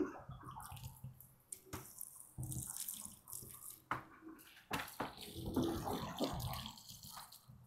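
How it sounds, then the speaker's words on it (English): Water splashes and trickles into a spring vegetable planter as it is watered, coming in uneven gushes and pours with dripping and gurgling between them, close and fairly loud. "And let me make sure I water the corners pretty good."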